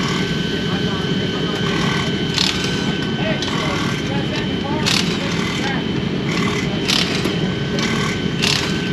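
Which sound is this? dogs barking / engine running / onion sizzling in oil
engine running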